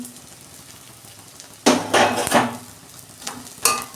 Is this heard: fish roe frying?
yes